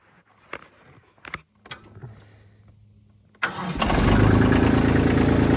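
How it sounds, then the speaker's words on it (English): A Kubota B2650 tractor's diesel engine cranks and catches after a few clunks and footsteps, then settles into a loud, steady close-up idle. "Gonna start the old Kubota B2650 up now"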